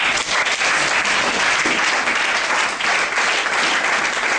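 A church congregation applauding during a Sunday worship service, a steady dense wash of clapping that stays loud and even throughout, with no speech over it.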